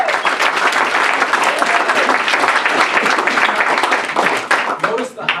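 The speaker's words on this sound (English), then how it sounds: "You can clap again." Loud, dense clapping from a Toastmasters meeting audience, sustained and close, tapering slightly near the end.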